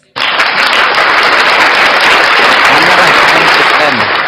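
A sustained burst of applause fills the whole stretch, loud and dense clapping from a religious talk audience, with a brief voice surfacing faintly near the end.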